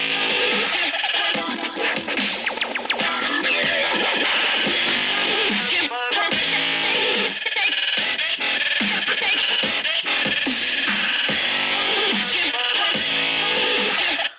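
A Saicoo waterproof outdoor Bluetooth speaker plays music, a dense, continuous loud track with steady beats and bright treble filling the whole clip.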